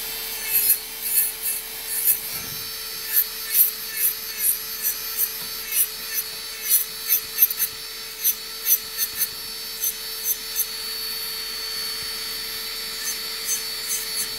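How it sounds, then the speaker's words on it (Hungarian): Wood being sanded, heard as a steady run of rhythmic rasping strokes about two or three per second, close and fairly loud, over a faint continuous hum with no talking. "ezt a lépést érdemes csiszológéppel csinálni"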